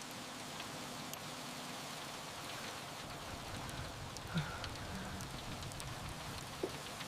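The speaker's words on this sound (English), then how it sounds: "Rain hammered my windshield like God's own judgment" Steady rain drums on a car windshield, a dense, even patter with occasional heavier drops, faint and continuous throughout with no voices.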